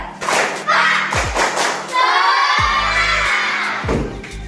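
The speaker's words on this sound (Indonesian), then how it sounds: "Biar lebih semangat, kita tepuk semangat yuk." A group of children chants together, punctuated by loud rhythmic claps and thumps in a lively, energetic burst.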